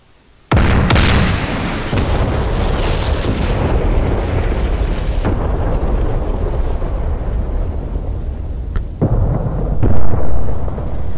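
AGM-154C JSOW glide bombs exploding on impact against tanks in DCS World, a sudden loud blast followed by a long rumbling roar, with further sharp detonations near the end.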